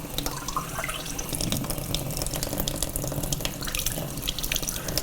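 Tap water running steadily into a graduated cylinder at a sink, a close, loud, continuous splashing gush with bubbly spattering that holds throughout.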